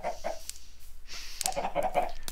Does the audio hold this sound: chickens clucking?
yes